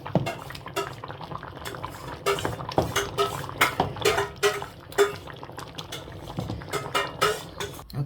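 A pot of potato and tomato curry is lifted off the stove, with a series of close metallic clanks and scrapes of pot and utensils, some sharp knocks spaced irregularly over a quiet bubbling background, no one speaking.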